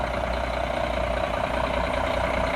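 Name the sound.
truck with C10 motor idling after first cold start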